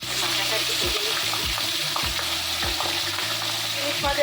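Egg fritters with green chili, onion, salt and turmeric sizzle steadily in hot oil, with intermittent scraping stirs of a spatula in the pan throughout.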